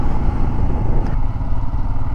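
A motorcycle riding along a mountain road between Shillong and Cherrapunji in Meghalaya, heard as a steady, loud, close engine drone with rumbling road and wind noise throughout.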